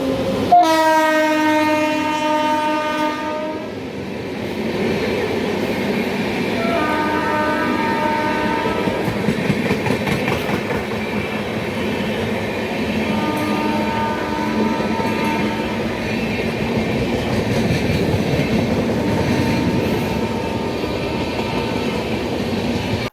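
A train runs on the Ranchi–Muri rail section in Jharkhand: a loud horn blast opens, then steady rumbling wheels and clacking carriages roll past, with further horn calls and no talk.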